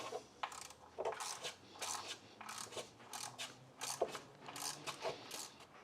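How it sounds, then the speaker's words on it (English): A 1/4 inch ratchet nips up the small VANOS solenoid bolts on a BMW engine, producing quiet, close bursts of rapid clicking pawl ratchets with short pauses between strokes. "Just use a 1/4 inch ratchet for this"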